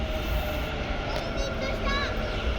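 A train pulls into a station platform with a steady, loud rumble and brief metallic squeals of the wheels, while the murmur of people on the platform carries underneath.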